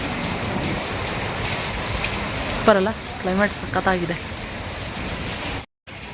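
Rain water keeps falling outside after a heavy downpour, a steady broadband hiss running throughout while people talk briefly over it.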